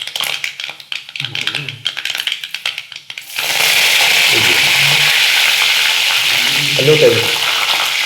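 Curry leaves hit hot coconut oil with mustard seeds already popping while a thoran is cooked; brief talk and light stirring give way to a sudden loud, steady sizzle that crackles on to the end.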